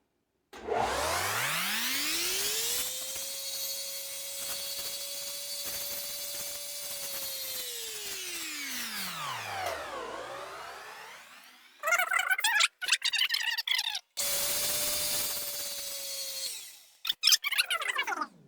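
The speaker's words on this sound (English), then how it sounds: "Sanding the edges of the rend and sanding the face of it" A power sanding tool whirs up to a steady high whine sanding the edges and face of a rubber climbing-shoe sole, runs for several seconds, then winds down, followed by short rough grinding bursts and a brief second run.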